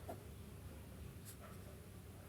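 Faint scratching of writing on a board during a maths lesson on geometry, a quiet, steady stroke sound with a couple of brief taps and no talking.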